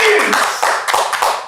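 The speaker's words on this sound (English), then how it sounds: "Everybody start clapping right now." A crowd claps at a gathering, with loud, close handclaps that begin dense and thin into a few separate claps, mixed with voices.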